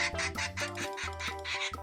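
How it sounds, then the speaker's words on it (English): A duck quacks in a series of harsh, nasal calls, repeated roughly every half second over about two seconds at close range, with a steady tonal hum running underneath. "This is a duck. Duck."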